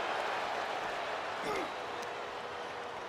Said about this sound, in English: listen to this crowd in Orlando, Florida. It is rocking here tonight.